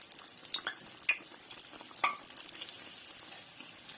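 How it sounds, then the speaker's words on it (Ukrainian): Cabbage and pea pies fry in hot oil with a soft steady sizzle, broken by a few sharp clicks and scrapes as they are turned, close by and quiet, with no voices. "Пиріжечки перевертаю і обсмажую з другої сторони."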